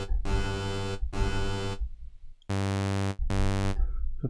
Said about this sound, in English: now you can hear a little bit the delay